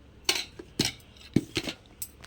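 A spoon scooping oats into a container, several light metallic clinks and taps spaced about half a second apart, close and clear with no talking.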